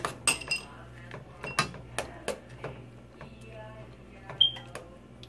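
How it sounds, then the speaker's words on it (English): A spoon clinks and scrapes against a bowl while stirring banana oatmeal, giving a series of sharp, close metallic taps spaced unevenly over a few seconds with faint background hum. "I just get the little bits that are left with the spoon and give it a good little stir."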